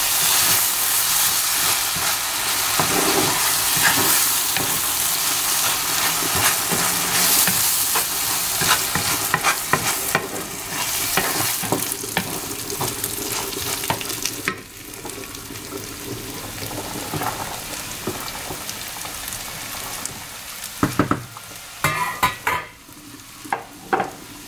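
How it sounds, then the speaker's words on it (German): Food frying in a hot pan while being stirred, with loud steady sizzling and scraping strokes over about 25 seconds, the hiss easing slightly partway through; no one talks. "So, jetzt auch noch mal schön mit anbraten."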